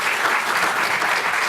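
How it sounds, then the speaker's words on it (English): An audience at a cannabis industry conference applauds a panel, a dense, steady wash of clapping from a crowd with no break. "let's give a big round of applause for our panel"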